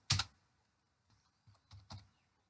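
A few quick keystrokes on a computer keyboard while code is typed: one sharp tap, then a short pause and a small scattered cluster of quieter clicks, faint and close.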